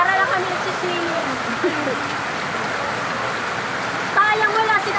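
Steady rain pours down outdoors, a dense even hiss lasting throughout, while people chat and laugh over it.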